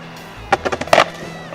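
An Atom B10 electric skateboard rolls and brakes to a stop: a run of sharp, close clacks and scrapes from the wheels and deck over about half a second, then quiet.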